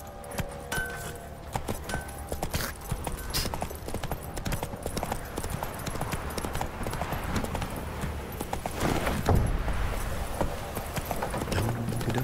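Roach the horse galloping in The Witcher 3: Wild Hunt, a dense, rapid clip-clop of hooves close by, running continuously and growing heavier toward the end, with faint game ambience behind.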